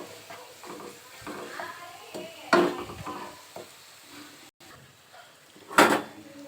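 Tamarind rice paste with green chilies frying in a pan, a soft sizzle broken by irregular stirring scrapes and a couple of sharp utensil knocks, with faint background voice.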